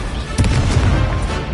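Incendio fire spell cast in Hogwarts Legacy, a loud burst with a sharp blast-like onset followed by a sustained roaring crackle lasting about a second.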